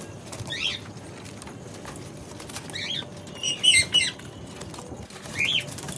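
Pigeons, some of them fancy breeds, flapping their wings in a cage as they are fed, several short flutters over a low background, fairly close but soft, no talk.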